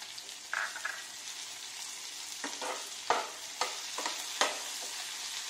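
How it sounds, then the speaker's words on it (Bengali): Tomato, garlic and ginger frying in a pan, a steady sizzle under repeated stirring scrapes and knocks of the spoon, close and continuous, with no talk. "দিয়ে একটু নাড়াতে থাকবো যতক্ষণ না আমার টমেটোটা গলে যায় আর রসুনটাও ভাজা ভাজা হয়ে সুন্দর গন্ধ বেরোয়"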